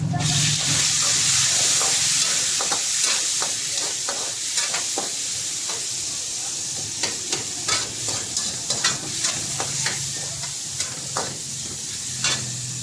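Tomatoes and onions fry in a hot pan for mung bean stew, a steady loud sizzle with scraping strokes of a spoon or spatula stirring at an irregular pace.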